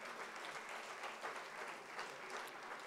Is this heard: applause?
yes